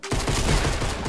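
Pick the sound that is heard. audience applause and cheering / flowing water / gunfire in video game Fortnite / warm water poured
gunfire in video game Fortnite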